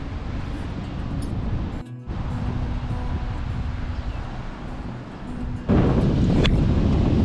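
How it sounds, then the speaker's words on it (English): Wind blowing along the New Zealand east coast at an outdoor campsite, a steady broadband rush with low rumbling buffeting against the microphone, briefly dropping out, then gusting louder near the end. "The wind's died down just enough for us to have dinner outside."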